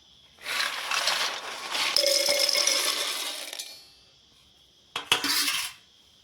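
Roasted peanuts and sesame seeds poured into a steel mixer grinder jar make a dense rattling clatter that runs for several seconds, then a short second burst of rattling after a pause.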